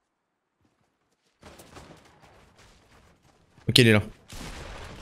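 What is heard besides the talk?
gunfire from an enemy player in the video game Fortnite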